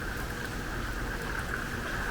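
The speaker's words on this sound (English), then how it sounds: "But the rain is still coming down." Steady rain pours down in Orlando during Hurricane Milton, a constant even hiss with no gaps, close and moderately loud throughout.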